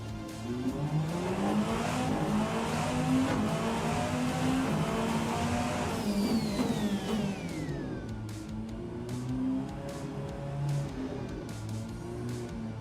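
Race car in the Rennsport racing game speeding out of the pit lane, its engine droning loud and steady throughout, with a rising whine that sweeps downward partway through as the car accelerates away.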